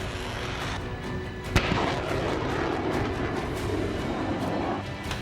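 Artillery and missile fire in the Russia-Ukraine war around Kharkiv, heard as a steady rumbling barrage with one sharp close blast near the middle and distant thuds beneath.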